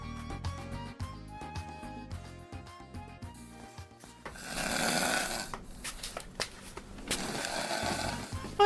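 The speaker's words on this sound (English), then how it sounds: "I hear that snoring." Snoring drifts from a bedroom in a radio drama, slow rumbling breaths repeating close up and loud, with a harsher rasping swell midway and no talk over it.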